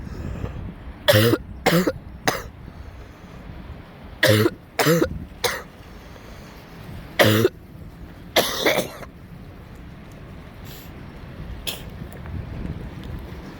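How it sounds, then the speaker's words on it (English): Repeated harsh coughing in short clusters of two or three bursts, close to the microphone, separated by quiet pauses with faint background noise. "Coughing again."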